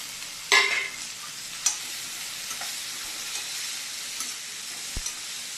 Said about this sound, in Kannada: ಈಗ ನಾನು ಈ ಟೈಮ್ಗೆ ಬೀನ್ಸನ್ನು ಹಾಕ್ಕೊಂಡ್ಬಿಡ್ತೀನಿ.